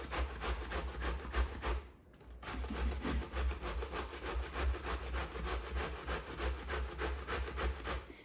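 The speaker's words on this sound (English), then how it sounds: "I'm just going to use a cheese grater here and grate this zucchini" Zucchini being grated on a cheese grater in a home kitchen, a steady rhythmic rasping scrape repeating quickly and evenly, close and fairly loud, with one brief pause partway through.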